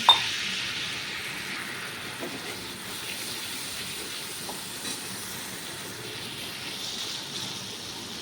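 Water poured onto hot garlic chutney masala in a pan makes a soft, continuous hiss and gentle sizzle after a small clink at the start, staying faint and even throughout.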